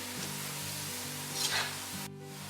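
Onions frying in hot oil on a gas stove, turning brown and crispy, with a steady sizzle, a low hum and the faint scrape of a stir partway through, alone with no talk.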